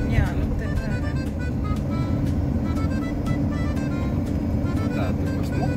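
A car drives through the streets of Graz with a steady engine and road drone close by, while people talk over it throughout.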